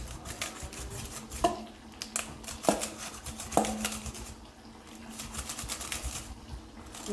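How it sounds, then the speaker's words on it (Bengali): A knife cuts vegetables on a board in a home kitchen, giving a few sharp, irregular knocks that stand out over steady low background noise, with no talk. "সবজিটাকে আগে কাটি কমতি করে দিয়ে দিই"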